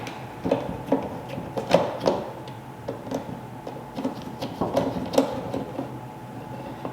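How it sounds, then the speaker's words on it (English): Small clicks and scrapes of a Phillips head screwdriver backing out the four screws that hold the license plate lights on a 5th Gen Toyota 4Runner, an irregular run of quiet ticks, fairly close. "we're going to be taking this Phillips head screwdriver, and we're just simply going to be taking out these 4 screws"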